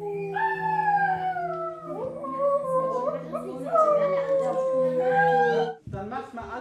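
At a children's concert, a voice imitates a wolf howl, long rising and falling wails with wavering pitch, fairly loud and close, trailing off near the end.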